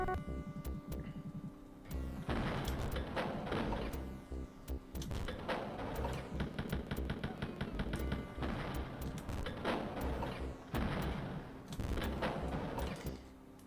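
Rapid bursts of gunfire from the 1992 video game Wolfenstein 3D rattle almost continuously over a low hum, in loud repeated volleys with brief gaps between them.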